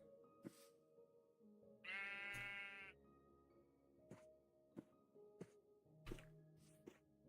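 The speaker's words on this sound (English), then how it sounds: "Man, sheep, you are really interested in what I'm doing." A sheep in a video game lets out one clear, wavering bleat near the start, surrounded by sparse thuds and clicks of block placing in a quiet scene.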